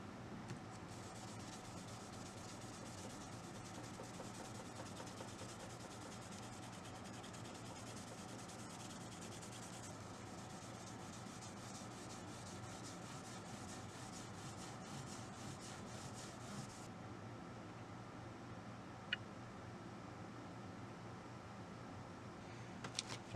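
A cloth rubs Dunlop-style lemon oil cleaner into the wood of a B.C. Rich Lucky-8 Warlock guitar, giving a soft, continuous scrubbing hiss in quiet surroundings with one small tap near the end.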